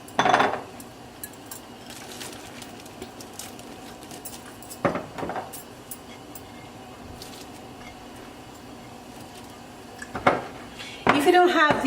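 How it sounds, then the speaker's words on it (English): Shredded mozzarella, Gruyere and Swiss cheese go into a thickening seafood mac and cheese sauce in a pot, with close utensil scrapes and clanks against the metal pot, bursts at the start and near the end. "And now I'm going to start adding the cheese in here."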